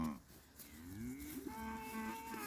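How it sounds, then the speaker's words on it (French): A small dwarf cow moos on a farm at feeding time, a drawn-out, rising and falling call lasting a couple of seconds, close and clear with no talk over it. "Notre petite vache naine."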